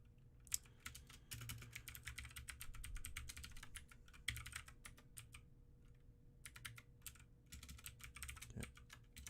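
Quiet, rapid keystrokes on a computer keyboard come in uneven bursts with short pauses, close to the microphone and heard on their own.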